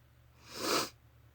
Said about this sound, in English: Sorry for sniffling.